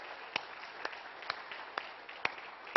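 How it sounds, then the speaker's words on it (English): A church congregation claps steadily in a room, with a soft patter of applause punctuated by a few sharper, louder claps at regular intervals. "Let's give him a clap of praise."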